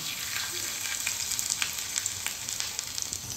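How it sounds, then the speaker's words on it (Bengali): Potato pieces stuffed with filling fry in hot oil in a pan, giving a close, continuous crackling sizzle with frequent small pops and no talking. "দেখুন আমার এই পিঠটা ভাজা হয়ে গেছে, উল্টে দিলাম।"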